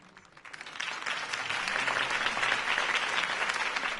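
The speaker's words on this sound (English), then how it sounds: "If only Mr. Wayne, my campaign's largest backer, could have heard that applause" Crowd applause erupts after a political campaign speech in a Batman video game, building from a quiet start into sustained, dense clapping that holds steady throughout.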